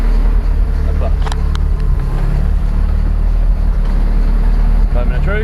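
An Audi A3 tuned to 500 bhp idles steadily right after a performance gearset install, its low engine rumble continuous and close throughout, with faint clicks and a brief voice over it.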